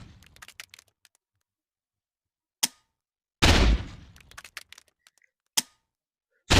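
A rocket launcher explosion in the Rec Room video game comes as a sudden loud burst of noise lasting about half a second, set among scattered sharp clicks and ticks with long silent gaps.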